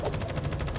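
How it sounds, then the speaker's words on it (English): A short, rapid burst of automatic gunfire in the sci-fi shooter video game The First Descendant, with repeated shots in quick rhythm, loud and close. "gunfire"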